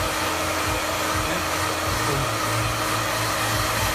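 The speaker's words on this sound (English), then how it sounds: "it's just a question of holding the dryer and the brush in the right motion" A hair dryer blows steadily and loudly at close range while a brush works through a man's freshly cut hair, a continuous whooshing roar with no talk over it.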